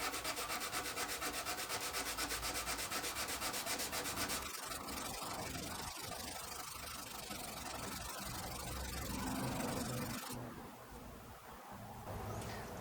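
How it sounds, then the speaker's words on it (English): Close, rhythmic scratching strokes of 180 grit sandpaper rubbed by hand along a forged knife blade, repeating steadily with no talking. "So I'm currently sanding with 180 because I finished on the belt sander at the 120."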